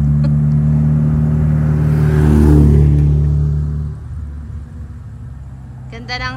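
A motorcycle engine runs steadily while riding, a loud continuous drone with a swell around the middle before settling lower and quieter, with voices talking over it.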